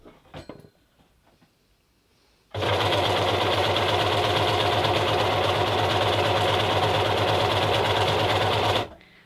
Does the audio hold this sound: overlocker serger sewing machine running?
yes